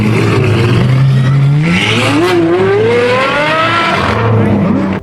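A Ferrari FXX hypercar engine screams loud and close, its pitch climbing steadily through a long rev before dropping and rising again, with a harsh raspy edge throughout.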